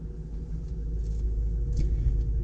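Supercharged Jaguar XJR-R1 car pulling away, a steady deep engine rumble held at close range for the whole stretch, with no talk over it.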